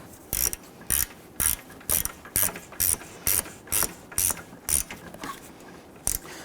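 A ratchet clicks in about a dozen quick, evenly spaced bursts, close and crisp, snugging a reused nut onto a stud on the AC condenser bracket of a 2011-2021 Jeep Grand Cherokee, with quiet pauses between strokes.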